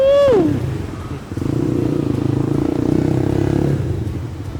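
A WMOTO Hawk 200i dual-sport motorcycle, whose engine is based on the Honda CG, revs up and pulls hard with a steady, throaty drone, loud and close, with no talking.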